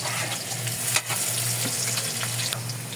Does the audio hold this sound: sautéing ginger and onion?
yes